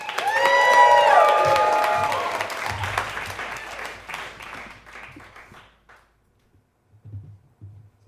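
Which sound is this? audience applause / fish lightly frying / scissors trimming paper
audience applause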